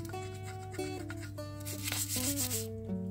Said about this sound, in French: Mais ça va dégager très très facilement avec cette brosse là, très très facilement.